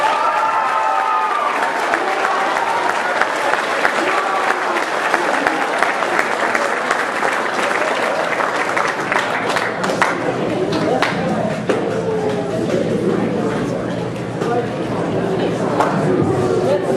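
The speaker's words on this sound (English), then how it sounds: "All right, let's give a round of applause." An audience at a JROTC change of command ceremony claps in a sustained, dense round of applause lasting the whole stretch, close and fairly loud, with some voices and cheers mixed in.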